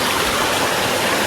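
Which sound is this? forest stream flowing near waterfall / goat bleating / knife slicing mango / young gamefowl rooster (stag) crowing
forest stream flowing near waterfall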